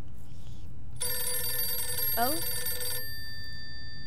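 A telephone rings in the survival video game 60 Seconds: one continuous, bright electronic trill lasting about two seconds over low background game ambience, with a brief surprised voice in the middle.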